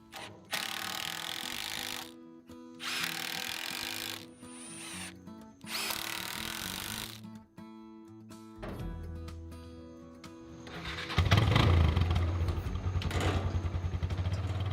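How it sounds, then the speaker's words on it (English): Power drill driving 3-inch deck screws into a wooden 4x4 firewood rack frame outdoors, in several loud whirring bursts of a few seconds each, the last one longer and deeper. "I attached the supports to the frame with 3-inch deck screws"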